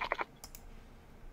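A few quick computer keyboard clicks, a short burst of three keystrokes followed by two lighter taps, then quiet room tone.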